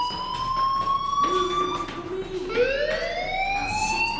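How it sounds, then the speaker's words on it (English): An alarm in the video game Life Is Strange rings on as a sustained electronic tone, clear and steady throughout with a pitch shift partway through, no talk over it. "Hey, do you hear that fire alarm? That means you should be outside."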